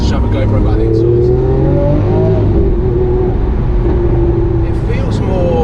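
A Lamborghini Aventador S engine pulls hard under acceleration, its loud, close drone rising in pitch for several seconds while voices talk over it.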